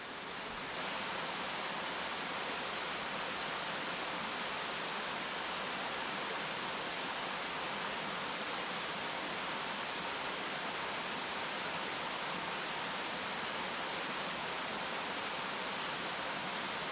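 A loud waterfall roars in a steady, unbroken broadband rush close by, filling the whole stretch without change or other sounds.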